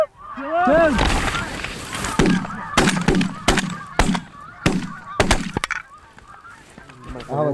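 Wild geese honk loudly and repeatedly during a hunt, a chorus of overlapping calls close overhead with sharp cracking bursts mixed in, while hunters talk quietly underneath.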